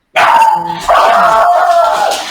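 A dog barks and howls close to the microphone on a video call, a loud, drawn-out yelping bark that breaks off briefly and then continues as a sustained whining howl.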